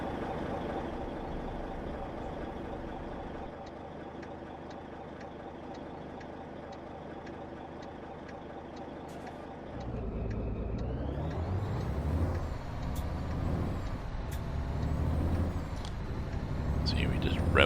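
A truck engine in American Truck Simulator idles steadily, then revs and climbs through the gears in rising, surging sweeps, heard fairly close inside the cab at moderate loudness.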